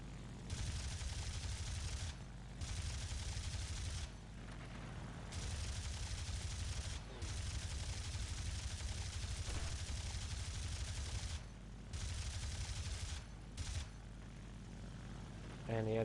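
Aircraft guns on a G.50 Freccia fighter in War Thunder fire in several long bursts over a steady low engine drone, the bursts broken by short pauses, fairly loud and continuous.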